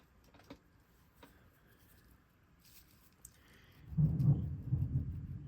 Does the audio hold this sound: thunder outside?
yes